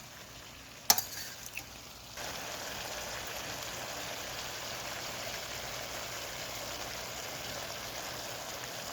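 Sliced peppers, cabbage and carrots frying in a pan for steamed cabbage, a couple of sharp clatters of vegetables landing, then a steady, even sizzle that holds close and fairly loud throughout.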